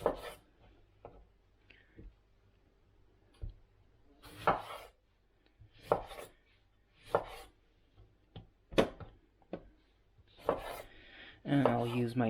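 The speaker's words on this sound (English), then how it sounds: "The tomatoes I'm just gonna raw chop because they're going in the soup." Raw tomatoes being chopped for soup with a knife on a cutting board, giving a series of separate sharp thuds and cuts spaced a second or two apart, close and clear, with quieter handling noise between strokes and a louder clatter at the end.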